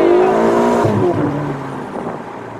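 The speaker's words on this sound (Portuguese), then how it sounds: "Olha o cheiro da borracha queimada." Car tires squealing and burning rubber as the car is floored, a loud sliding screech that drops in pitch and fades into a lower rumble with engine noise.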